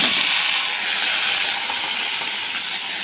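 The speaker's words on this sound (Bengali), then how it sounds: "এবার পনিরটা ভেজে নেব।" Paneer frying in hot oil in a pan gives a steady, fairly loud broadband sizzle that holds evenly throughout with no talking.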